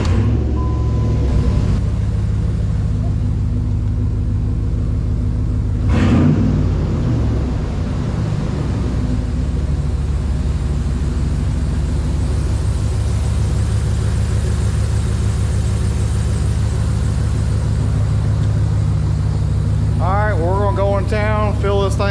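A 292 engine turns over and idles with a slightly rough note, a loud steady low rumble running throughout with a brief surge early on; a voice is faintly present near the end.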